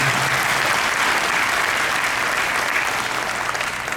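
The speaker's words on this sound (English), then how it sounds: "can you all give Ken a round of applause?" A conference audience gives a round of applause for Ken, dense, loud continuous clapping from a large crowd that holds steady and tapers slightly at the end.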